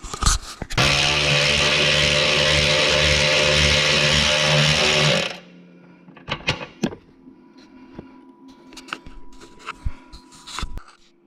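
A ratchet spins a last starter bolt loose under a Mustang, first as a long loud continuous whir, then as scattered sharp clicks, taps and metal clunks, close up with no talking.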